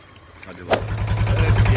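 A fishing boat off Yakakent, Samsun, revs its engine to full throttle after a sharp knock, the low droning hum building and holding steady as the boat gets under way, with voices nearby.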